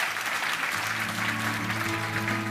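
Applause from a live business-talk concert audience in Korea as a food company chairman is welcomed onto the stage, a dense steady wash of clapping with a low hum beneath, no speech over it.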